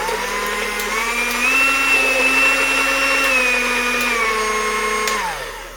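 A modded Aldi Ambiano cordless hand mixer fitted with oversized beaters whirs steadily close by, its motor pitch climbing and holding a high whine before sliding down as it winds off.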